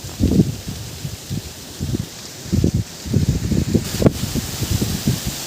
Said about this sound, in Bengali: এই গাছের যে পাতাগুলো নড়ছে সেটা দেখে আপনারা নিশ্চয়ই অনুভব করতে পারছেন যে কতটা জোরে বাতাস বইছে